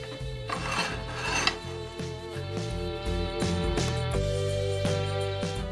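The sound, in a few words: sanding oak ornament on a wood lathe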